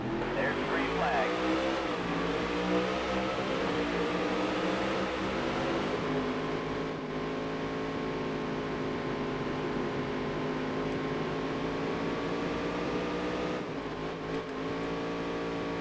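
Race cars roar off a green flag start in the Dirt to Daytona video game, a layered engine drone with rising and falling pitch sweeps, steady and fairly loud, easing slightly near the end.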